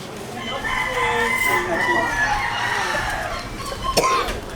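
A rooster crows loudly and close by, a long drawn-out call, with some clucking and a brief sharp knock near the end.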